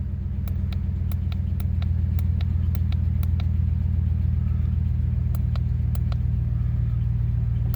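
Car being driven for a transmission test after repair by an automatic transmission shop, a steady loud engine and road rumble from inside the cabin with a series of faint ticking clicks over it.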